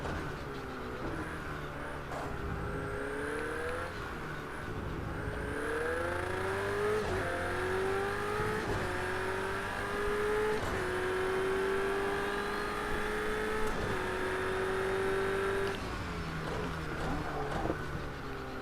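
Race car engine in a video game race, a steady droning motor with rising pitch sweeps as it accelerates through gears, continuous and fairly loud with light tire noise, no talk.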